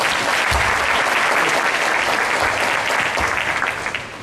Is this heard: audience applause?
yes